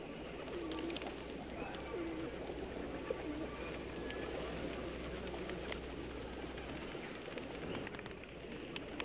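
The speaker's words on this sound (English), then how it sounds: "These are a variety of English carrier pigeons." English carrier pigeons, a show-bred variety, coo in repeated soft throaty phrases over a constant bed of background noise, with several birds calling close by and no talk.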